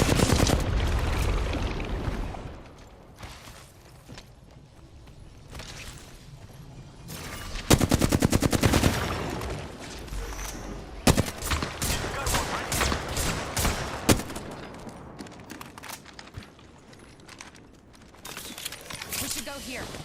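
Gunfire crackles in Apex Legends, with bursts of rapid shots and sharp single cracks scattered through the clip, some loud and close, others quieter, while a voice talks over parts of it.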